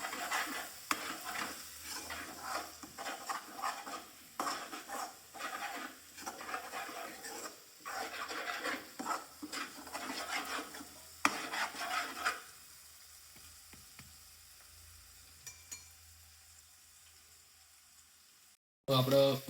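Gram flour batter is stirred in a bowl for peanut bhajiya, a steady scraping, rubbing rhythm that fills the first twelve seconds, then grows sparse and quieter.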